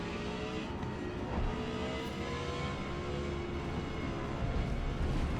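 An Audi R8 GT race car engine roars steadily in the Forza Motorsport video game during a GT class race at Mid Ohio, a continuous high-revving drone at moderate level that runs without a break.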